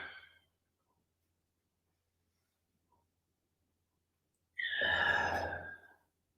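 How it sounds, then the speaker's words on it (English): Deep breathing during a pregnancy workout: a short exhale at the start, a long pause of silence, then one long, audible close breath lasting over a second, with no talking. "At your own pace, an inhale to go over and an exhale to come back."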